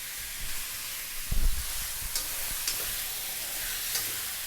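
Chicken pieces frying in oil and rendered skin fat over fairly high heat for Filipino chicken afritada, a steady close sizzle with a few louder bursts and stirring bumps, no talking.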